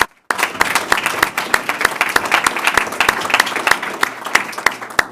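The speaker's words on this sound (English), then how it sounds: "Let's give her a round of applause." A school board meeting crowd gives a round of applause for the student council advisor, starting abruptly after a brief silence, with individual sharp claps standing out over a steady crowd of clapping hands.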